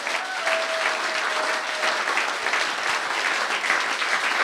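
A church congregation claps steadily during a French-language worship service, a dense, continuous wash of applause that holds at an even level throughout, with a faint sustained tone drifting beneath it.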